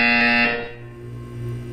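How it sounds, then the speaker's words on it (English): A harsh electronic buzzer sounds loud and steady in the video game Portal 2, then drops to a lower droning tone that holds on alone to the end. "You will hear a buzzer. When you hear the buzzer, look down at the floor."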